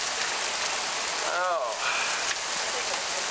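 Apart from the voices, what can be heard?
hail storm in Bristol, Tennessee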